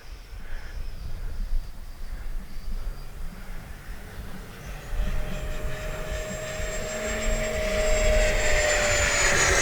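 E-flite 90mm Viper RC jet flying overhead after takeoff from grass: a steady, distant whine of the ducted fan rises in pitch and grows gradually louder as the model climbs and passes.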